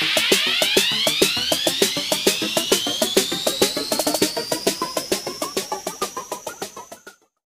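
A diesel-powered sprayer working a corn field engine and pump, with a steady pulsing mechanical throb of regular beats over a rising whine, close and loud, running about seven seconds before cutting off abruptly with no talk.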